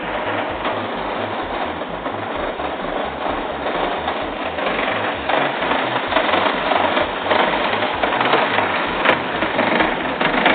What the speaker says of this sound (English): Some guy on a tractor.